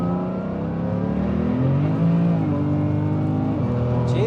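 A 1000 hp BMW M3 engine pulls hard under acceleration, heard from inside the car as a loud, continuous drone that rises and dips in pitch across several gear changes.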